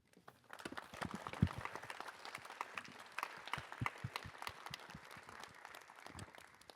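An awards ceremony crowd applauds with many hands clapping in a steady, fairly distant patter that swells slightly and then carries on evenly for several seconds.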